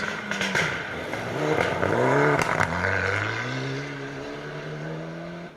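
A Mitsubishi Evo rally car passing on a stage of a Welsh rally championship event in North Wales, engine rising and shifting through gears with crackles as it approaches and sweeps past, loud then slowly fading, no talk.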